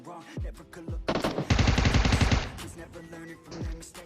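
Gunfire in the mobile game PUBG Mobile: a few separate booming shots, then a sustained rapid automatic burst, followed by more scattered shots, loud and close.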